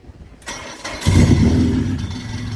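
A Toyota car fitted with a turbocharged Honda K24 engine cranks briefly, catches, and settles into a loud, steady idle close by with a rough, throbbing rumble.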